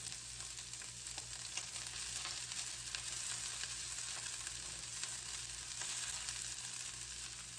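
Onion sizzling in hot sesame oil in a pan, a steady dense frying hiss that carries on unbroken from start to finish, with no talk over it.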